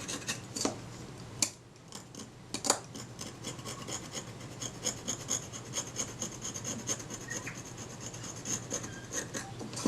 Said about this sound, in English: I'll see if that'll scrape off with the back of my scalpel blade